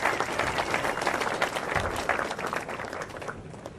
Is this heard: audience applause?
yes